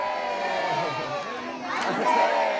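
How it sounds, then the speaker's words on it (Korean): Korean community crowd in Los Angeles at a Liberation Day ceremony shouting "Daehan Minguk manse" together, a steady mass of voices rising into a louder surge near the end. "하나 된 목소리로 대한민국 만세를 외쳤습니다"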